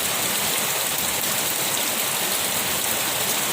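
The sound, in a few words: heavy rain falling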